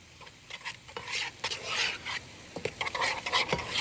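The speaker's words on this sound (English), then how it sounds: "we're going to stir this into our orzo." A spoon stirs finely minced ingredients into orzo in a pan, giving soft repeated scraping and wet stirring sounds with a light sizzle, close and fairly quiet, with no talking.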